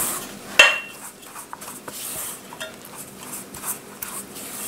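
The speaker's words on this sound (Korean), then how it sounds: "이제 스패츌러로 가볍게 섞어주세요" A spatula scraping and clinking against a bowl of chocolate chip cookie dough, one sharp knock early, then soft steady mixing strokes with no talking.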